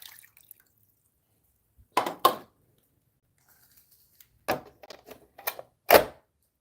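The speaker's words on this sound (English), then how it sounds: "Pour the water out." Water poured out of a seedling tray lands in a few short splashy bursts: a paired splash, a pause, then several quick drips and spatters, near and moderately loud amid silence.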